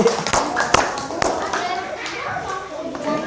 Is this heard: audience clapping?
yes